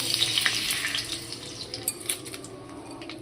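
Sugar dropped into hot oil in a pan, a bright crackling sizzle with scattered pops and a few light utensil taps, close and steady over a few seconds, no voices.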